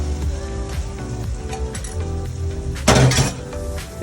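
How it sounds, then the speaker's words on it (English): An egg frying in a pan for campus-style yam and egg sauce gives a steady sizzle, with a louder burst of spattering partway through and faint utensil clinks, close and without talk. "the next thing we're going to do is to be adding the egg"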